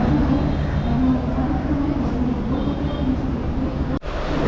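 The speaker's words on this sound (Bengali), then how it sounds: "এই হচ্ছে আমাদের ডিজেল ডেমু ট্রেনের ভেতরটা, আপনাদের একটু দেখাই।" Steady, loud rumble and hum inside a moving diesel DEMU passenger train on the New Jalpaiguri to Haldibari line, continuous engine and wheel drone with a brief dip near the end.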